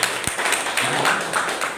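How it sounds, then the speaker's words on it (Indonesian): Hands clap throughout a church worship service in a dense, steady patter that fills the short moment at close range, with no voices over it. "Tepuk tangan buat Tuhan itu"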